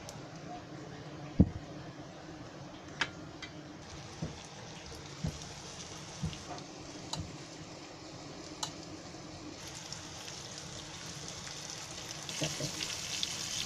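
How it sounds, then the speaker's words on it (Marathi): Garfish pieces coated in a rice flour batter with chilli powder and salt frying in hot oil, a steady low crackle with scattered louder pops, close by, and a voice talking faintly in the background. "हे ना सर्व मच्छी अशीच पिठामध्ये डुबवून आहे ना तेलात सोडायची."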